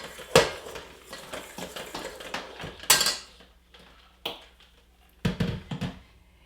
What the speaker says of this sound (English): stirring the salt into the flour here